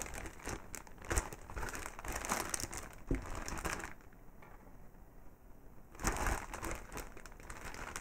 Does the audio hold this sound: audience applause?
no